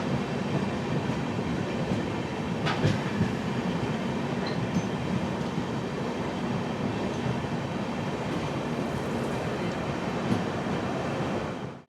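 The Garib Rath Express at Eklakhi Junction gives a steady, loud rail rumble with wheel clatter, broad and unbroken for the whole stretch, with no voices.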